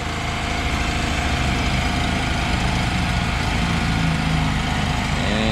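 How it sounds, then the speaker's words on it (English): A portable generator with an electric starter runs inside a van, a loud, steady low idling drone with a fixed engine rhythm throughout. "So the generator is electric starter, and you can actually fire it up in the van itself."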